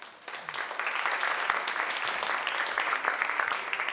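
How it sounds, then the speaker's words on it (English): Audience at a gala charity auction breaking into applause: a brief, dense burst of clapping from a crowd that swells quickly and holds steady. "How about a round of applause?"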